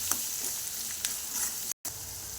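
Egg junnu curry frying in a pan with chili powder, masala and garam masala, a steady close sizzle with a few soft stirring clicks and a brief dropout near the end.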